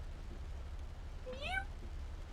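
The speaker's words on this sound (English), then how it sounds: "our cat currently wants to leave, so I'm just gonna open the door for our cat." A house cat gives one clear rising-falling meow at a door, wanting to be let outside, heard alone over a low steady background hum.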